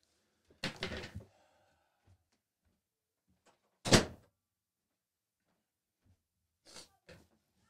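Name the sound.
door being handled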